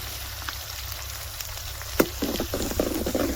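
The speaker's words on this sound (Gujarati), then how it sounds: "ભાવેશભાઈ મારવા માંડ્યા હો વઘાર" Spices are tempered for a vaghar in hot oil at an outdoor farm gathering, a soft steady sizzle that erupts into a sharp hiss as they hit the oil, followed by lively crackling spits.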